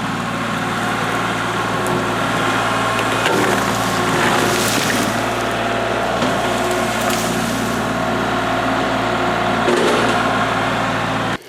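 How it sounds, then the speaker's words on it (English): Kubota L3301 HST diesel tractor pushing over a black cherry tree, a steady engine drone with crackling, splintering wood and snapping branches building midway, ending abruptly. "Just pushed it over, it broke off at the base, nice and easy."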